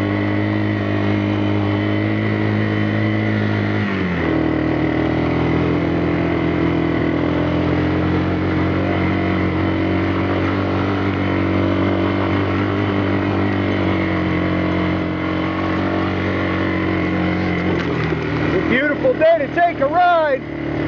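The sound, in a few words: four-wheeler ATV engine while riding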